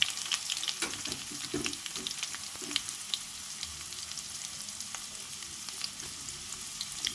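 Onions and green chillies frying in oil with curry leaves and chopped garlic, a quiet continuous crackling sizzle with occasional light stirring.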